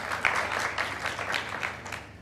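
A live studio crowd at a Ramazan iftar transmission claps for a contestant in an audience vote, a sustained wash of many hands applauding at even strength with no voices on top.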